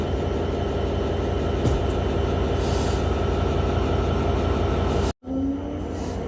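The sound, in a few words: Intercity Ruposhi Bangla Express train leaving Muksudpur station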